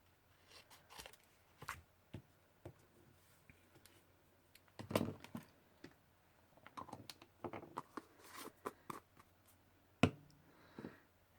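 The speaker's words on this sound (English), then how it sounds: "take my scissors and clip off the corners here" Scissors snip the corners off paper for a BoBunny Weekend Market mini album, a series of quiet, separate crisp clicks and cuts spaced a second or so apart, with light paper handling between them.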